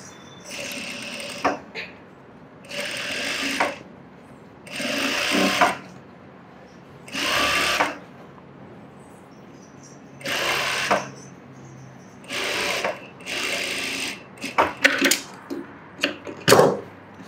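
A sewing machine stitches a seam in a series of short, repeated bursts of rapid mechanical whirring, separated by brief quiet gaps, with a few small clicks and handling noises near the end.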